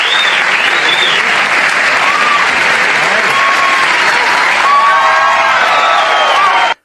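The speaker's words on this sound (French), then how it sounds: "la foule ne cesse d'applaudir" A late-show studio audience on Letterman's show applauds loudly and continuously, a dense, sustained wall of clapping with scattered whoops and cheers rising near the end before it cuts off.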